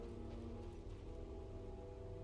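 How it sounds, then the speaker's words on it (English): Steady rain pours in The Witcher video game, an even, continuous patter across the whole stretch with a low rumbling bed, quiet and unbroken, no voices. "the effect of that rain falling on that spike"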